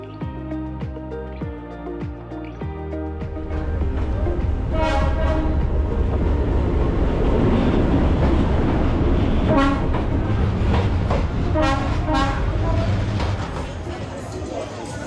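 A train rumbles past very close and loud through a narrow street in Hanoi, Vietnam, its cars clattering rhythmically as a horn sounds, then the noise slowly eases.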